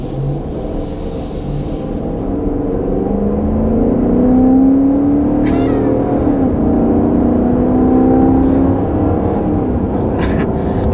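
2020 Dodge Durango R/T Blacktop V8 engine revving, a loud deep throaty drone that rises and holds in pitch, then eases back, heard close with no talking.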